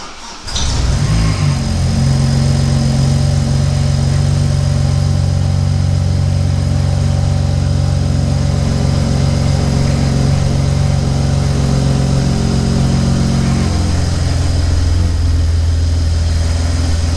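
A BMW E30 fitted with an N54 engine cranks briefly, catches, and settles into a loud, steady idle that holds close by for many seconds, no voices.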